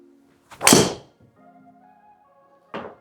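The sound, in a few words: golf driver striking a golf ball, firmer sound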